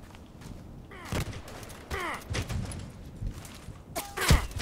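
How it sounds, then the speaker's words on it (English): Enemy gunfire in the shooter game Contract Wars: a few sharp shots ring out at about one-second intervals, moderately loud with some distance, over game ambience and light footsteps. "And one guy shooting"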